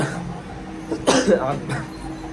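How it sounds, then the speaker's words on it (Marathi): A man coughs a few times in a quick, close cluster, the hoarse bursts standing out over a low steady background. "मला थोडासा खोकला आहे."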